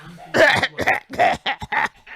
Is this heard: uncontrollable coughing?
yes